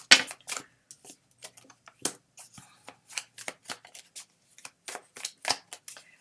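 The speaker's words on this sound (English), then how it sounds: "what I'm doing is I'm shuffling until one card falls out" Quick crisp riffling bursts of a card deck being shuffled, repeated in short irregular runs, close and fairly quiet.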